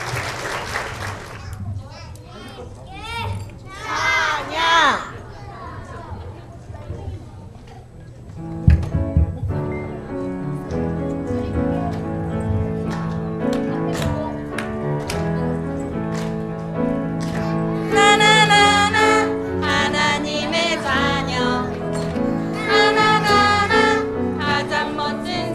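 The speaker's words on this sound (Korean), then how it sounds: "큰 박수로 맞이해 주시기 바랍니다" An audience at a church year-end Christmas Eve event applauds warmly in the first few seconds, clapping steadily, before a bright children's song with music takes over.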